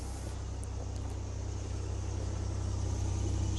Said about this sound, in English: Just kind of a low rumble there.